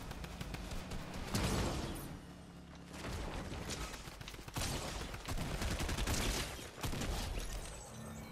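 Gunfire close by in a game, dense crackling volleys and booms that come in overlapping waves and fade in and out, with no speech heard.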